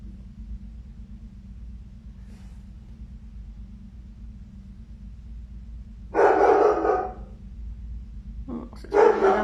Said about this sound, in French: C'est sûr que vous allez entendre mon chien.